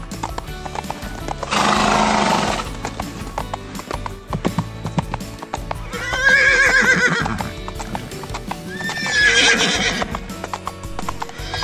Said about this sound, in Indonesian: sekarang ayo kita cobain naik kuda dulu yuk